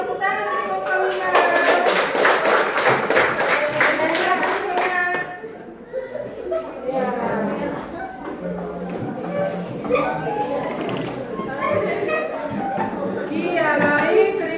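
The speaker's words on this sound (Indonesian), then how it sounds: "beri tepuk tangan untuk Paulina." A classroom of students claps for Paulina after her presentation, a dense burst of hand claps that fades partway, then picks up again in scattered patches with children's voices chattering over it.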